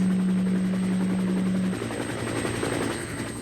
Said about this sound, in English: The noisiest of all was a helicopter.